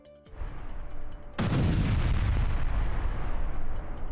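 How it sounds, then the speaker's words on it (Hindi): Guided bombs from an Israeli strike hit the presidential palace in Syria: a faint thump, then a sudden massive blast that swells into a sustained, loud rumbling roar. "एक के बाद एक कई धमाकों से राष्ट्रपति महल की इमारत खंडर में तब्दील हो गई"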